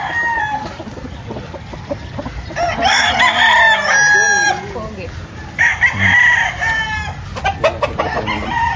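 A farm rooster crows nearby, loud and close, with two drawn-out calls separated by a pause, with clucking and faint rustling around them.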